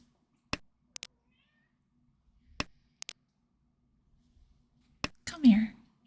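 A spooked house cat gives a single short meow near the end, close by, after several sharp isolated clicks from mahjong tiles on a table in a quiet room.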